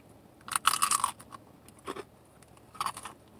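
Crisp, close crunching bites of Burger King food, with bursts of chewing around the half-second, two-second and near-three-second marks, fairly loud against a quiet room.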